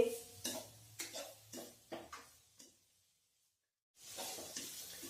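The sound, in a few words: stirring grated carrot halwa in a pan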